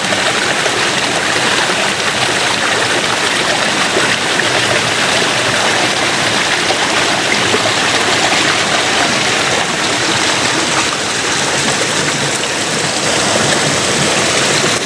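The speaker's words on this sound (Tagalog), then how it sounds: "unti-unti nang lumalaki yung daanan po ng tubig" Rainwater rushes loud and steady through a widening channel of softening soil beside a storm-damaged bridge, a continuous broadband roar with no pauses and no voices.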